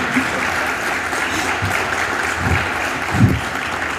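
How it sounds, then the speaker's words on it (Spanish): Applause at a book presentation for Dr. Silvio Gramajo, a steady wash of clapping from an audience, with a few low thumps and murmurs underneath. "Por favor, démosle un fuerte aplauso a Silvio"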